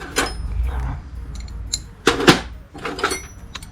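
A wrench being handled on a spark plug during a Toyota Corolla tune-up: a few scattered metallic clinks and knocks near the start, around the middle and toward the end, with quiet gaps between.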